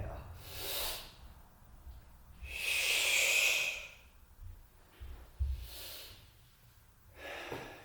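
People breathe in and out together during a guided yoga exercise, with several slow, loud breathy bursts, the longest one in the middle, spaced by quieter pauses.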